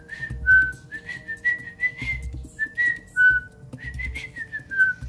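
A woman whistles an improvised melody alone, a string of clear, loud, sliding pitched phrases in three bursts, with a soft low hum underneath between them.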